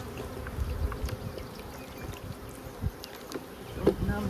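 Honey bees buzz around a wooden queen bee cage during a hive inspection of package bees, a close, continuous droning hum with scattered louder passes and faint handling sounds.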